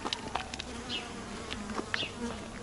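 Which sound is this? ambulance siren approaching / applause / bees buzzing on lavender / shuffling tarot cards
bees buzzing on lavender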